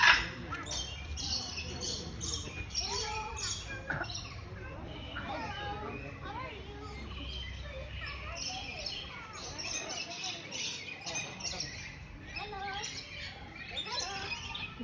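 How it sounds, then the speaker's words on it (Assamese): Many birds at Guwahati Zoo, including parrots, lovebirds and silver pheasants, screech and chirp continuously from close by, with people talking in the background. "এইফালে চৰাই আছে, খুব চিঞৰিছে"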